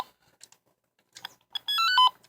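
A Power Rangers Time Force Quantum Defender toy switching on gives a few faint clicks and then a short, bright electronic chirping melody, close and brief with no talking.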